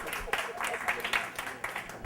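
Scattered clapping from a comedy club audience at a steakhouse in Yankee Stadium, a few loose bursts of hands rising and fading over crowd murmur.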